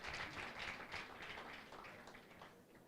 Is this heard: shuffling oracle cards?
no